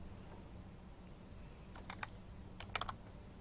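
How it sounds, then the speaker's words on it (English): Short bursts of keystrokes on a computer keyboard as a word is typed, a few quick clicks clustered near the end over faint room hum. "Let's type any other word."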